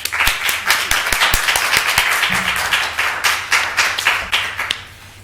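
Audience applause welcoming a speaker at a Woman Life Freedom conference, dense steady clapping from a crowd filling the room, sustained for several seconds with sharp individual claps standing out near the front.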